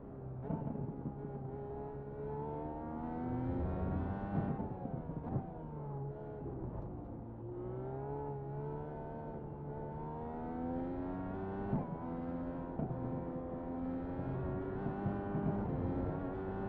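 An Indy car engine drones in a racing video game at Virginia International Raceway, holding a steady high-pitched whine that rises and falls through gear changes and throttle shifts for the whole stretch, with no talking.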